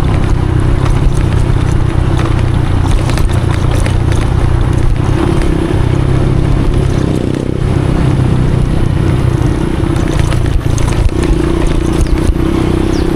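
A motorcycle engine drones steadily throughout, close and loud, with rattles and clatter from riding over a rough hill road.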